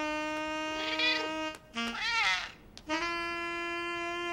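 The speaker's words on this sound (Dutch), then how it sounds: "Gilbert, jij malle kat!" A drawn-out, wavering cat meow rises and falls between long sustained tones, clear and close.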